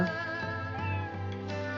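A cat in the video game Another Eden meows in a drawn-out, tonal call over steady game background music, heard clearly without speech.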